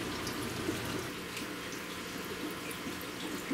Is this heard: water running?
yes